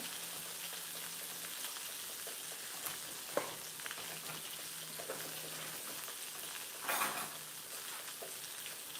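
Shrimp fry in a pan for a fried shrimp lunch, giving a steady, faint sizzle throughout, with a few soft clinks and stirring noises standing out briefly.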